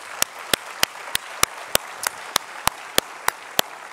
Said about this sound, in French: je crois qu'on peut leur dire tous bravo et d'ores et déjà les applaudir